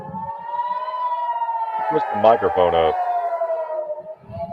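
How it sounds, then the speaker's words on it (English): A wailing missile alert siren holds a steady pitch in the background while someone speaks over it briefly, the siren continuing underneath. "That's the sound of the sirens going off. That means the missiles are inbound,"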